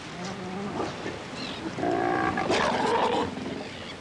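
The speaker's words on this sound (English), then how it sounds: "a flourishing society of sea lions" Sea lions in a crowded Falklands breeding colony give rough, overlapping roars and bellows, several animals calling at once at moderate distance with a louder burst in the middle.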